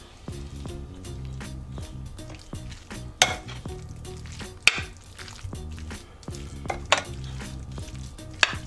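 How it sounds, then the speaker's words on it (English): Barbecue sauce is stirred into pork in a slow cooker, a repeated wet scraping and squelching with sharp knocks of a spoon against the pot at irregular intervals, close and alone. "Stir it in."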